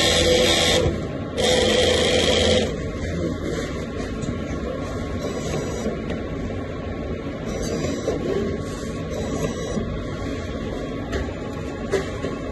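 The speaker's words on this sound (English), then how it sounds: "Now you're going to see that the wiper is going to clean it." An Epson printhead cleaning cycle, with mechanical whirring from pumping and wiping: two louder bursts at the start, then a quieter irregular motor drone and faint clicks.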